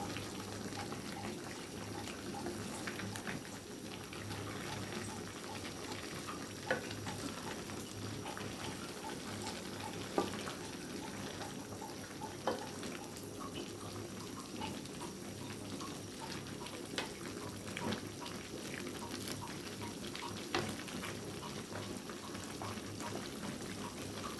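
Thin dal with fresh seasonal vegetables, milk and salt simmering in a pot, a faint, steady bubbling and gentle sputter with occasional soft pops, quiet and continuous with no voices.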